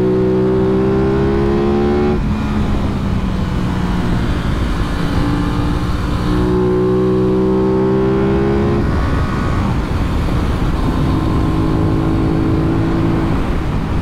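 An Aprilia RS660 sports motorcycle ridden on a bumpy road, its twin engine droning loudly and continuously with rising revs and gear changes, plus strong wind rush.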